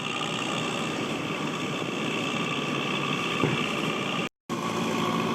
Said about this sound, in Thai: โอ้ มาดูใกล้ๆนี่เสียงลั่นๆเลยครับฟอร์ด